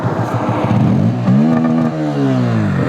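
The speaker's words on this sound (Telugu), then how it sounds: "ఒక్కసారి ఎగ్జాస్ట్ నోట్ వినిపిస్తాను మీకు. ఎగ్జాస్ట్ నోట్ వినండి." A Bajaj Pulsar N160 motorcycle is revved up close, its exhaust note climbing in pitch in a couple of throttle blips before easing back, loud and alone with no talk.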